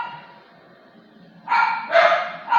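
A dog on a farm property barks in two or three loud, close bursts after a quieter stretch of faint background noise, with no talk over it.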